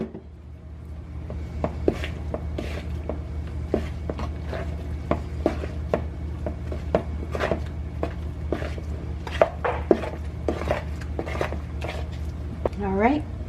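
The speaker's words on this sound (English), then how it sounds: "And you're just going to stir this until it's nice and smooth." Milk is stirred into apple cinnamon bread batter, with a spoon repeatedly clicking and scraping against the bowl in a steady rhythm over a low background hum, while a person talks.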